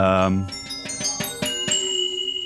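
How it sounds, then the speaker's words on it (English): A series of struck bell tones in quick succession, each ringing with metallic overtones, the last one left sustaining as it slowly fades. "This is just a number of different sort of sample packs that I've recorded myself of bells."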